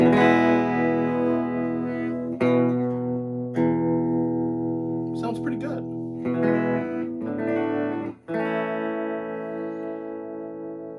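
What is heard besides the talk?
electric guitar through tube amp with reverb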